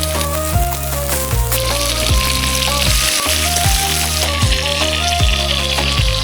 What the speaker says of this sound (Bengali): এবার তেল দিয়ে দেবো মাছ ভাজার জন্য দিয়ে দেবো